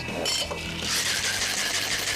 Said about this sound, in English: Now it's time to shake and pour.